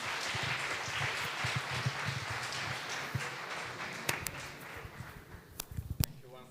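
An audience at a startup pitch competition applauds the winning team with dense clapping that thins out toward the end into scattered individual claps, with voices underneath.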